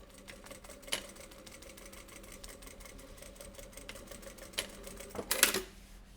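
A sewing machine runs steadily while stitching the side seam of a mask made from sterilization wrap, a close, continuous patter of needle clicks with a few louder knocks and a sharp flurry near the end.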